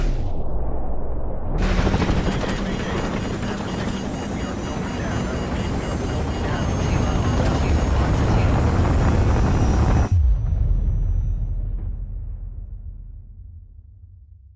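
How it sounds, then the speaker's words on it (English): An incoming missile explosion in Call of Duty Modern Warfare Remastered brings a sudden roaring blast of broadband noise that rumbles for several seconds. Then a heavy low impact hits and the noise fades away slowly. "Incoming missile. Hang on!"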